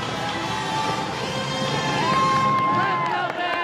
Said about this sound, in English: the energy of the crowd behind them